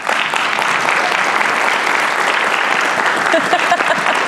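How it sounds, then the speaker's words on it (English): Live audience applause for guests on a discussion panel: steady, full clapping from many people that holds at an even level for several seconds, close and loud. "So please give these folks a round of applause quick."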